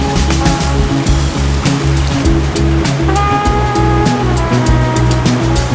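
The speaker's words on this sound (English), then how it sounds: "The water's flowing pretty fast" Fast-flowing, crystal-clear freshwater stream with small waterfalls on Vancouver Island, a loud, continuous rushing close by, with some tonal sounds running through it.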